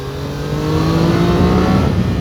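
A Triumph Daytona 660 motorcycle engine revs up steadily in third gear, its tone climbing under acceleration, loud and close with no voices.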